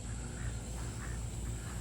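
Ducks on a farm near a barn quack in a soft, distant chorus under steady background noise, a few muffled calls rising over the constant hum.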